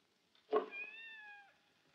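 A hungry cat gives a single drawn-out meow, close and clear, rising then falling over about a second, with no talk around it.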